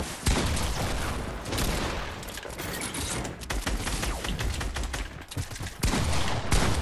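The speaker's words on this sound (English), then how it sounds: "I'm shooting him down." Dense, continuous gunfire from a shootout against an opponent in Fortnite, rapid bursts and volleys running nearly the whole time with a brief lull, loud and close.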